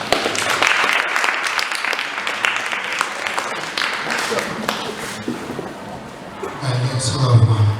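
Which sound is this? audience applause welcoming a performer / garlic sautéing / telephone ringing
audience applause welcoming a performer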